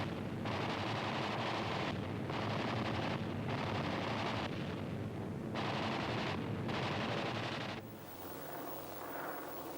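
Rearward-firing machine guns on WWII B-25 Mitchell bombers flying at treetop height over the Philippines roar in five long, loud bursts of rapid fire separated by brief gaps, then give way to a rushing, rumbling drone.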